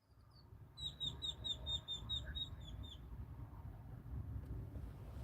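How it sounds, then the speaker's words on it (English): A bird chirps a quick run of sharp, high repeated notes in the background over a steady low outdoor wind rumble, fading after a few seconds; no talk. "I don't know if y'all hear that bird. That bird back there cutting up."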